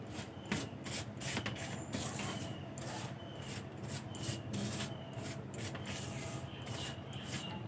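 Flour and milk powder are stirred together in a bowl for gulab jamun dough, making a steady scraping and rubbing with repeated soft bursts of friction throughout.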